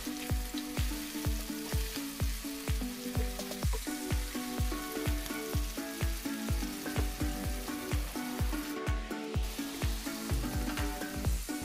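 Ginger garlic paste fries in a hot pan while making homemade hot chaat, a steady close-up sizzle with regular soft stirring taps recurring throughout and no voices.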